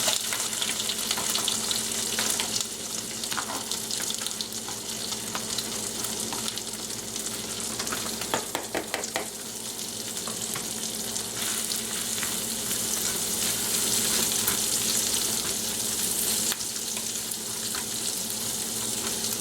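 Diced onions fry in a pan over lowered heat with a steady, close sizzle, joined by occasional stirring scrapes and a brief burst of clatter midway. No one speaks.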